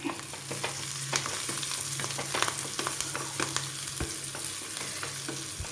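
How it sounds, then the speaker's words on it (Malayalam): Egg thoran with onion and salt being stirred in a pan, a constant frying sizzle punctuated by irregular clinks and scrapes of a spoon against the pan. "ഇനി നമുക്കൊന്ന് ഇളക്കാം"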